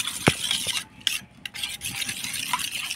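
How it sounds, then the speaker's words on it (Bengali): Eggs being beaten in a bowl with salt, turmeric, chopped onion and chopped chili for an omelette, a steady scraping whisk with sharp clicks against the bowl, close and alone. "লবণ, হলুদ, পেঁয়াজ কুচি, লঙ্কা কুচি দিয়ে ভালো করে ডিমটা ফেটাই নিব"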